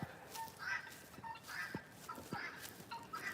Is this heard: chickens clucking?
yes